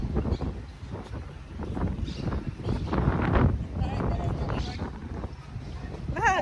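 Gusty wind buffets the microphone on a street in Barcelona, rising and falling in low rumbling bursts under people chatting nearby.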